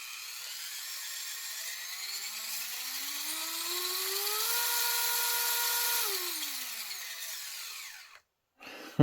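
Injora brushless motor in a TRX4M RC crawler with low range gears spins the wheels with a rising electric whine that holds high, then winds down, clear and close with no talk.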